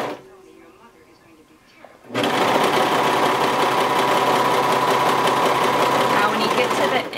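A Brother 2340 coverstitch machine hemming fabric starts up after a quiet pause and runs at a steady, loud, continuous whir through the rest of the stretch.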